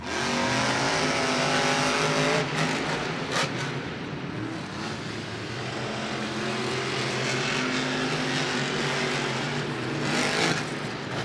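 Monster trucks race side by side in a stadium, engines roaring loudly and steadily throughout, with brief revving surges and a crowd-filled arena wash, no speech.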